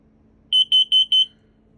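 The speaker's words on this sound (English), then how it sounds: "our carbon monoxide LP detector" Four sharp, high-pitched electronic beeps in quick, even succession from a carbon monoxide/LP detector being tested in a 2022 Forest River No Boundaries 19.8 travel trailer, loud and clear against a quiet background.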